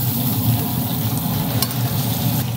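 Bacon cheeseburger patties sear in a hot skillet, fresh off a 450-degree BARQ-2400 grill, giving a loud, steady crackling sizzle with a brief sharper pop near the end and no talking.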